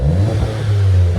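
A 2017 VW Golf GTI turbo fitted with a Twister muffler revs briefly, giving a loud, smooth, low exhaust note held close to the listener.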